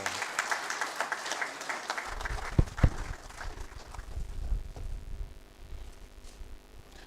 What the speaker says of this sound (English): I think we can clap a little more.